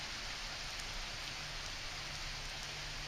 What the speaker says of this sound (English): it didn't take long for it to start raining.